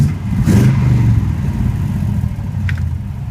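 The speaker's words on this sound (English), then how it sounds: "It looks like 800 RPM. If you give it some throttle," An LSX V8 swapped into a BMW E28, with a slight exhaust leak, rises briefly under throttle from a steady idle, then settles back to a rough, close, loud rumble.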